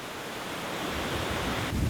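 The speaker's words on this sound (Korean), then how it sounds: "뉴질랜드에서 제일 큰 어마어마한 폭포예요" Roaring wash of Sutherland Falls in New Zealand, a three-tier waterfall dropping 580 m, steady and loud throughout, with strong wind buffeting the microphone and a heavier gust near the end.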